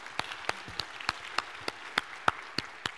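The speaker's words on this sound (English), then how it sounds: "Let's give him a round of applause." A lecture-hall class audience claps for a guest taking the stage: sparse, evenly spaced hand claps, sounding like only a few people, moderately loud and close with no talking.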